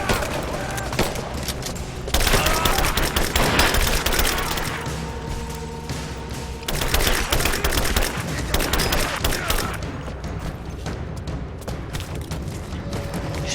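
Gunfire in the video game Rise of the Tomb Raider, a rapid, loud fusillade of shots and booms running through the whole stretch, dense and continuous with brief bursts, plus background game effects.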